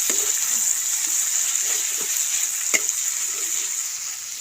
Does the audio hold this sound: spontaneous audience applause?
no